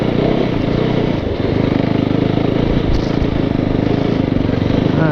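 A Nemesis snow bike ski rig riding over dimpled, hard-packed snow gives off a steady, loud engine drone with rough rumble, continuous and close for the whole stretch.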